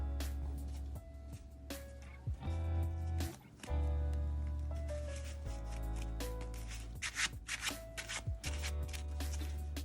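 Marvel Champions encounter cards being shuffled at the table, a run of close, crisp riffling and sliding card sounds over steady low background hum, with no talk during the shuffle.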